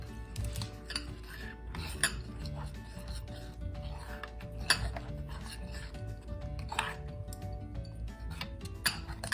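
Homemade unicorn slime is stirred and mixed in a bowl, giving a steady stream of close, sticky clicks, squelches and light tapping, with a voice speaking at times underneath.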